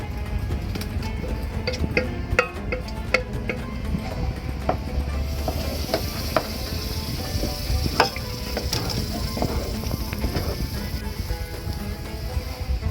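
Tomatoes dropped onto golden brown onions in a pan on a Welcome Dover woodfired stove, frying with a steady close sizzle and scattered clicks and stirring knocks throughout.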